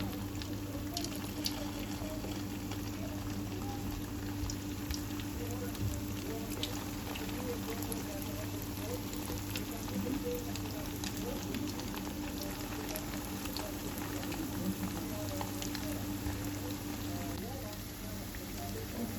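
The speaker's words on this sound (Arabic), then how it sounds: "وهلا وصلنا للمرحلة الأخيرة إني بدي أقليهم" Discs of dough frying in hot oil, a steady, dense sizzle and crackle that continues evenly throughout, with a low background hum.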